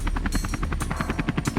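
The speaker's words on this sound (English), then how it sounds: "At times, even the helicopter had to help." A helicopter assisting a recovery operation for a WWII bomber stuck in ice, its rotor thumping in a fast, steady rhythm, close and loud with no talk.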